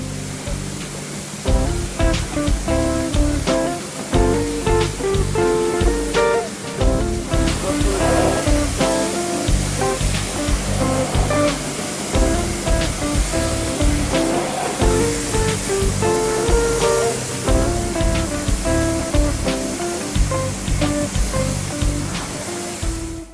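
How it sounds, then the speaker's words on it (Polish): A touchless car wash pressure sprayer applies hot wax to a car from about 30 to 50 cm, a steady loud hiss of spraying water with a continuous machine hum beneath it, close and unbroken. "program numer 3, czyli woskowanie na gorąco, chroni nasz samochód przed zabrudzeniami"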